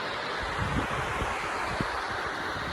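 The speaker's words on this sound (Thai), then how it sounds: "นี่ครับบรรยากาศน้ำไหลสวยมากเลยครับ" Water flowing at a reservoir beside the Sebai river, a steady broadband rush with low churning pulses, close and continuous with no voices.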